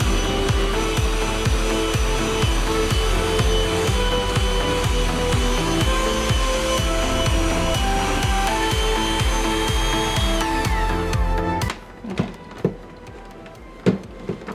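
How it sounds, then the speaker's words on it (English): An electric mixer whisks a blueberry cheesecake ice cream base, a loud, continuous whirring motor with rhythmic knocks against the bowl that cuts off abruptly near the end, leaving a few scattered clatters. "And whisk again, just a little bit longer."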